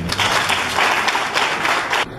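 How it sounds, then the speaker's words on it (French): Applause from an audience at a public gathering, a loud, dense patter of clapping that swells in waves before cutting off abruptly near the end. "Applaudissez pour vous-même."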